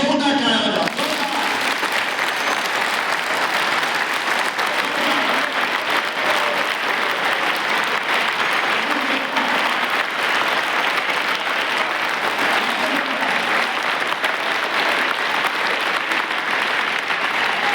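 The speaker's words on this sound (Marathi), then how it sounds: "आईसाठी जोरदार टाळ्या" Sustained, loud applause from a large audience in a hall fills the whole stretch, steady clapping without pause after a brief opening.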